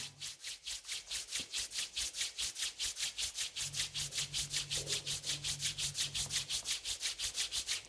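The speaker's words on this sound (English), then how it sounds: "Rub your both palm." Palms rubbed together in steady, rapid back-and-forth strokes, a dry swishing friction repeating evenly for several seconds, close and fairly quiet with no talking.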